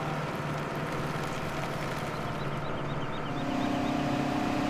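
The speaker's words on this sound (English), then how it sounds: "I love this tractor." A Farming Simulator 17 tractor drones low and fairly quiet, its engine tone shifting slightly partway through as it keeps running with no speech.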